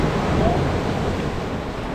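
Ocean surf rolling onto Black Sand Beach on Maui, a steady broadband wash of waves with some wind buffeting, heard up close for a couple of seconds.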